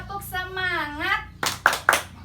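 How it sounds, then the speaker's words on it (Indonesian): Schoolchildren in a classroom doing a rhythmic clapping chant, a child's sung call followed by a few sharp, distinct claps close by. "Tepuk semangat dulu dong."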